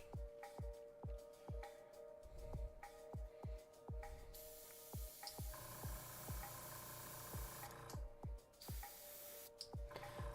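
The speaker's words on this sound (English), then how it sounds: "I'm only gonna hit the blade with the spray" Short bursts of spray paint hissing onto the blade of a kitbashed miniature, about a dozen quick regular puffs, each with a sharp onset, close and clear, with a longer continuous spray partway through.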